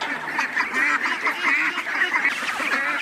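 Ducks quack in a dense, continuous chorus beside a fish pond on a mountain farm. The calls are close and loud and overlap without pause.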